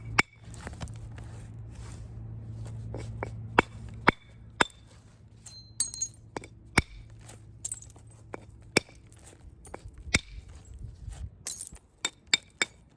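A boxwood billet strikes basalt during flint knapping, producing sharp, glassy clicks and chinks at irregular intervals, some ringing, some duller, over quiet background with a faint low hum early on.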